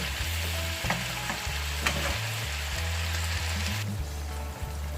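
Bull beef stir-fried with red curry paste in a hot pan, a continuous close sizzle with repeated scraping and clinking of a spatula stirring throughout.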